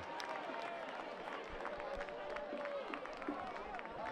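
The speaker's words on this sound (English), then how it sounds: "A round of applause coming from the Kicapoo sideline" Scattered clapping and crowd noise from a high school football sideline outdoors, with hubbub and distant voices throughout and no single burst standing out.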